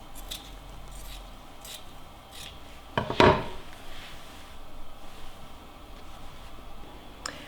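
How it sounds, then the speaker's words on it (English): Scissors cut fabric from a cut-up garment into strips, with soft faint snips and rubbing, then a louder close crunchy cut in the middle before quieter handling resumes. "you cut them into strips"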